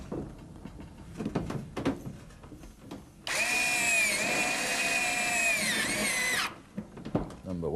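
A power drill drives small teak head screws into a retrofit fitting, whirring steadily for about three seconds at close range, with quieter handling noises before and after.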